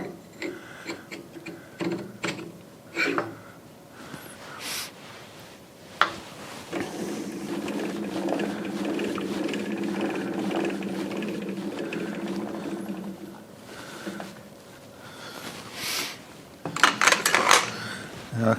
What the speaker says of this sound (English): I can't go berserk over tightening the chuck